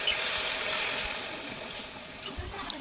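Hot water pours into a pan of chicken curry as a steady, close rushing splash over the simmering dish. It fades slightly toward the end, with no clear talking.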